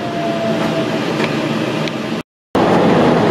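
Train running through Mikawa-Miya station, a small stop passed without halting by a special rapid service: a steady onboard rumble of rolling wheels and car noise, continuous and fairly loud, cut by a brief dropout before resuming.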